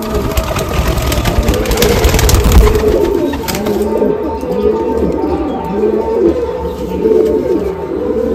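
Madrasi pigeons cooing in repeated soft, throaty phrases close by, with a brief burst of rustling wing flaps near the start and a low engine hum underneath throughout.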